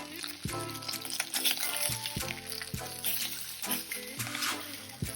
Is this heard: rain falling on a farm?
no